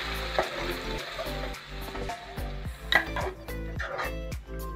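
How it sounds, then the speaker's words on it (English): Masala sizzles and fries in hot oil with onion in a pan, stirred with a utensil that scrapes and clinks against the metal in a steady, close, continuous sizzle. "put the masala for frying."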